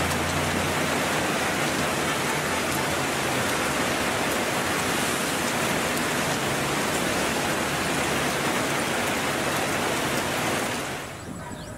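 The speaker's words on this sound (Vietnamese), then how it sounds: "giờ là mưa thật" Heavy rain pours down in a dense, loud, unbroken hiss that lasts almost the whole time, then eases slightly near the end, with no talking.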